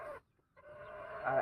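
A chicken clucks close by in two short bursts separated by a brief pause, the second longer and rising slightly in intensity.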